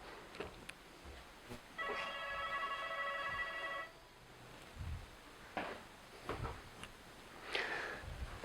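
Telephone ringing indoors during a calculus lesson, a steady electronic ring lasting about two seconds, clear and fairly close, followed by quieter clicks and handling sounds.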